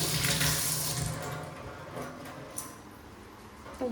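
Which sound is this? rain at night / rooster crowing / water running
water running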